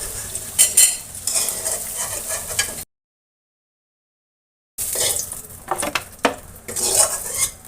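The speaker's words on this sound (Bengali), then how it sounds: "এবার নামিয়ে নিচ্ছি বন্ধুরা।" Clinking utensils and a spatula scraping a wok as lightly browned fried potatoes are lifted out for aloo dum, in two bursts of clatter separated by a silent gap.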